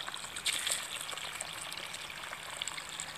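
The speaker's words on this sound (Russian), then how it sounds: "Вот один раз воды налью." Water pours steadily into a planting hole dug for seedlings in garden soil. It makes a continuous trickling, splashing gush at moderate loudness with no speech over it.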